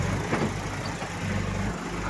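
A Massey tractor pulls up on the move, its steady diesel engine rumbling low and continuous close by, with no talking over it.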